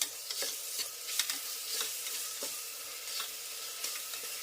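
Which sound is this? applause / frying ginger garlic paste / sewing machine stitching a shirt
frying ginger garlic paste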